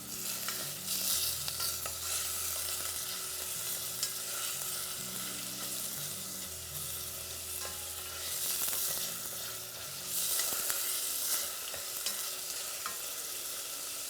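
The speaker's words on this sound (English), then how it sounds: "We're gonna be adding in about half a tablespoon, or like a tablespoon of oil actually, just to like slightly brown the meat." Beef browning in a pot with about a tablespoon of oil for stew, a steady sizzle and frying hiss with occasional stirring scrapes running throughout at moderate, even loudness.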